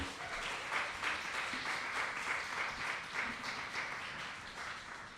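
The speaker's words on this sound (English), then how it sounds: "So give them a round of applause." Applause from an audience at an evening gallery performance, a continuous dense patter of many hands clapping at an even, moderate level throughout, with no voices over it.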